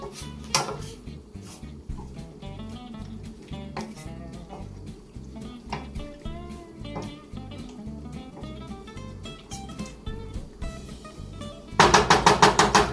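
Cooked pasta is stirred with tomato sauce in a pot, giving repeated scraping and clinking of a utensil against the metal, with sharp clatters and a loud rattling burst near the end.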